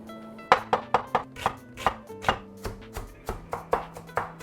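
Onion, carrot and shiitake mushroom being diced on a board: about a dozen crisp, evenly spaced knife chops, close and clear, over soft background music.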